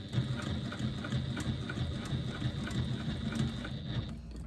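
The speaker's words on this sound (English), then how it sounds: "And I'm just top stitching at 1/4 of an inch" Sewing machine top stitching a lambda weave bag at a quarter-inch seam allowance, a steady rapid mechanical stitching rhythm running continuously at moderate level with no talk.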